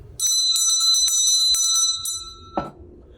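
A hand bell rings in a rapid series of bright metallic strokes with a sustained shimmering tone, fairly close and loud, then stops and fades out near the end.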